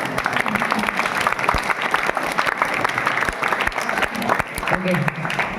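Loud, sustained applause from a group of students at a Kurnool boys' hostel, with many hands beating in a dense, uneven patter and people shouting and talking over the clapping.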